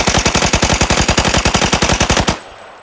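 Sustained automatic gunfire in the mobile shooter Arena Breakout, a fast regular burst of loud close shots lasting about two seconds before stopping abruptly.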